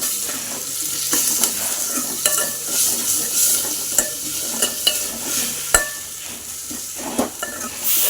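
Tomato and salt sauté in a pan for a sorrel leaf dish, a continuous close sizzle with regular scraping and clinking from a spoon stirring against the metal.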